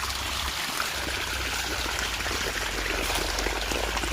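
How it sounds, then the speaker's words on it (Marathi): Continuous trickling and gurgling of irrigation water flowing through a sugarcane field channel, steady and moderately close, with no voices. "इकडे पण पाणी चालू आहे वरच्या उसाला"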